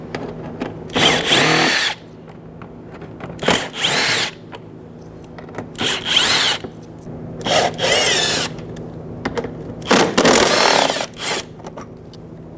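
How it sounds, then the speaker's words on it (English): Bursts of a power driver spinning a 7mm socket to remove fender liner screws on a Jeep Patriot, roughly six short whirring runs separated by pauses, close and loud with no talking. "I'm going to start in the front with my 7mm socket and disconnect them."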